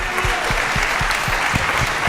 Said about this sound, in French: j'aimerais vraiment que vous les applaudissiez